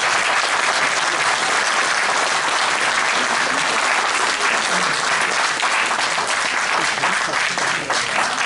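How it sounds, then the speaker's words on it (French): Sustained, dense applause from a conference audience after an AI talk in Nice, steady and loud for the whole stretch, with faint voices mixed in beneath the clapping. "Je crois qu'on va vous applaudir une nouvelle fois"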